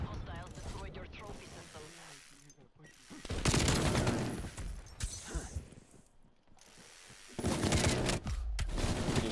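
Gunfire in a team deathmatch shooter game, rattling bursts and clicking mechanical effects that come in waves, heaviest in the middle and at the end, with some talk between.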